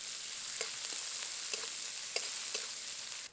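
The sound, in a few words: chopped onion frying in crab-fried oil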